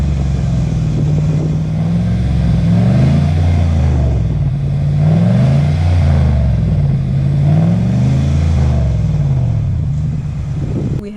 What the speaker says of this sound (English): You got the fender flares, muffler replacement, so it does have a modified exhaust.